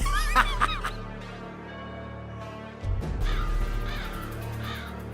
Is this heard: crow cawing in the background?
yes